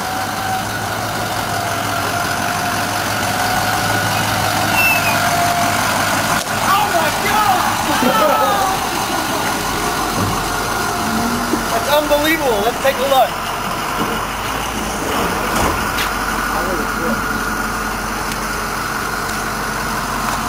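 A UPS delivery truck's engine idles steadily and close by for the whole stretch, a low continuous rumble with some clatter and shifting noise partway through, while people talk faintly nearby.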